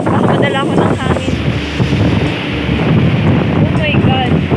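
Strong wind from Super Typhoon Rolly roars and buffets the microphone in a loud, continuous rumble, with faint voices and whistling gusts partly buried beneath it.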